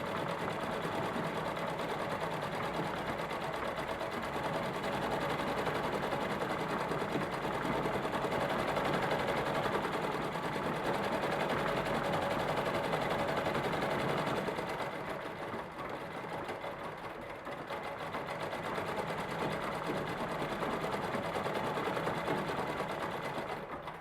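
A Bebarfald Blue-Bird branded Minerva CB sewing machine runs steadily and loudly, its fast continuous stitching whir broken by a short dip in speed midway before picking up again.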